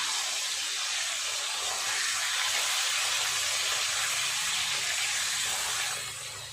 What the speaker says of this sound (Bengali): উল্টে অপর পিঠটাও ভালো করে ভেজে নেব